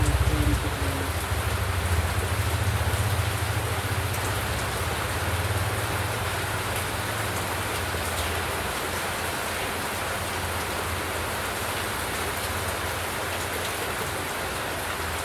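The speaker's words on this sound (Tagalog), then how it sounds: "Medyo malakas ang ulan." Heavy rain pours down steadily, a dense hissing wash of drops drumming on surfaces, loud and unbroken throughout.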